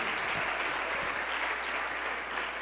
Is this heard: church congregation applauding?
yes